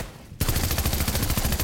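Rapid automatic gunfire from the video game Fortnite, a dense continuous burst of closely spaced shots that starts abruptly after a brief quiet moment and stays loud to the end.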